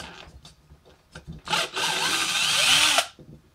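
A Ryobi cordless power drill, powered straight from a solar panel, bores a hole in one steady burst of about one and a half seconds, loud and close, after some faint handling knocks.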